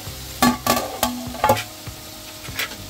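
A spatula scrapes and turns red amaranth bhaji in a hot pan, giving a series of distinct stirring knocks over a soft sizzle, with no voices.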